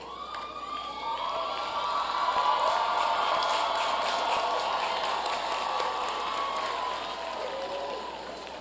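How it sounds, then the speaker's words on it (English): Class of 2018 graduates at a Clark Atlanta University commencement stand and applaud, a broad sustained roar of clapping mixed with cheers and whoops from a large crowd, swelling early and holding steady throughout. "The class of 2018, I want you now to stand up and applaud those folks"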